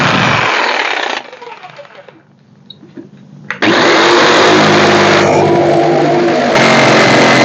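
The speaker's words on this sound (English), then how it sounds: "I cut it with my jigsaw to match the live edge" A jigsaw cuts a walnut board to follow a live edge, loud buzzing bursts for about a second, a quieter lull, then a long sustained stretch of harsh, close cutting to the end.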